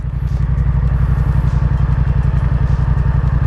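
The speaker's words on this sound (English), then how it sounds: "it's a little bit like that just to get the feel for how it is actually letting the bike to start to move" A motorcycle engine runs steadily and close as the bike begins to pull away, a loud, even, throbbing idle-like rumble with no talk.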